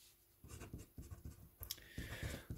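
Chalk or marker strokes on a classroom board come in a run of scratchy, uneven bursts, near and moderately loud, with short pauses between strokes.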